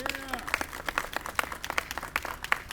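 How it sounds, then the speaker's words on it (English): Scattered clapping from a modest crowd at an outdoor streetscape ribbon cutting, uneven individual claps rising and falling over a few seconds after a voice at the start. "Let's give him a big round of applause as well."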